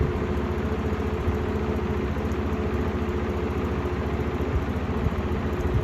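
A 1969 GE W25 box fan runs at medium speed, giving a steady low motor hum and whooshing air with a faint rattle, heard from several feet away at moderate loudness with no talking.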